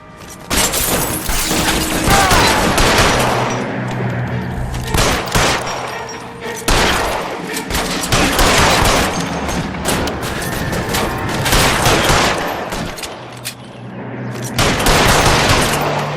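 Gunfire in the video game L.A. Noire: loud, dense volleys of rapid shots and bursts roll almost continuously for about sixteen seconds, broken only by a few short gaps.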